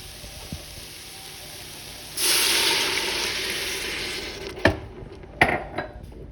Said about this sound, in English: I'm just adding some water here.